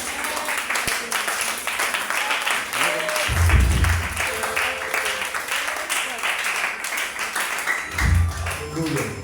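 A worship congregation applauds and cheers, crowd noise and scattered clapping filling the whole stretch, with low thumps and voices rising in bursts near the middle and end.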